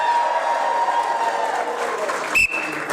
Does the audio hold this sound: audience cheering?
yes